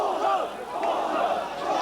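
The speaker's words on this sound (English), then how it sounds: "The air was filled with shouts of "Fascists!" A huge crowd of protesters in Tiananmen Square in 1989 shouts and chants at a line of soldiers, a dense roar of many voices from a distance.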